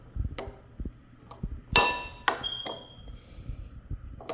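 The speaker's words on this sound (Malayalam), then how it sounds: "ഇനി ഇത് നമുക്കൊന്ന് നന്നായിട്ട് മിക്സ് ചെയ്യാം." A utensil clinks and taps against a bowl while ingredients with green chilies are mixed, giving scattered knocks and a few bright ringing clinks, one with a brief sustained ping, all fairly close and without talk.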